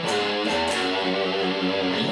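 A distorted electric guitar plays the fast run from a song, a loud, sustained, overdriven line of changing notes, close and alone with no talk.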